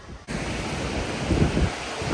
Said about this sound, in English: It's incredibly windy out here and it's cold